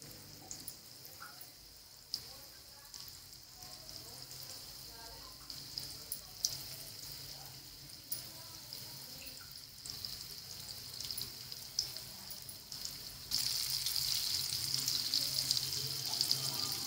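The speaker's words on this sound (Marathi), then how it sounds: "तेल तापले. आता प्रॉन्स याच्यामध्ये सोडून द्यायचे." Prawns fry in hot oil, a quiet steady sizzle and spatter with scattered pops that swells louder near the end, while someone speaks softly over it.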